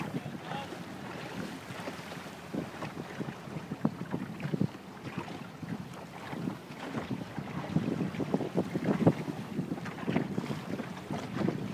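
Boat traffic on Guemes Channel, with longboats, a Boston Whaler and a yawl passing, heard as a steady low rumble of engines and water wash under gusty wind buffeting the microphone, with no talk.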